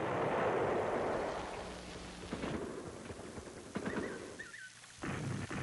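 Marine artillery guns firing rounds in the Vietnam War: a loud, sustained low roar and rumble with several heavy booming bursts, distant and dense.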